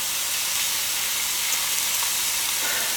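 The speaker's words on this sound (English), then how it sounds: "you're searing in that good flavor. I like to do it in an iron skillet" Chicken searing over high heat in an iron skillet, a steady, bright, dense hiss that runs unbroken and fairly loud throughout, with no talking.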